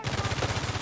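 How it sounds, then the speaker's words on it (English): Rapid automatic gunfire in the video game Uncharted 4, a dense, steady burst of closely spaced shots filling the whole moment, loud and close with no talk over it. "Who else is shooting at me?"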